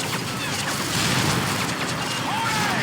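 An aircraft blows up in Call of Duty: Modern Warfare 3, a crashing burst inside dense, continuous battle noise that stays loud across the short stretch.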